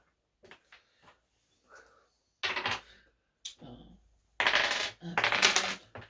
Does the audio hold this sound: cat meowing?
no